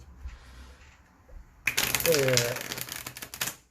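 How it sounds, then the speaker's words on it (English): Rapid crisp riffling of tarot cards being shuffled, a dense burst of clicking flutters up close, with a voice briefly speaking over it. "it's nice to shuffle the cards before we put them on the table"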